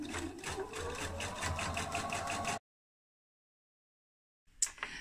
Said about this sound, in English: my machine does have a locking stitch at the start and at the end when I'm sewing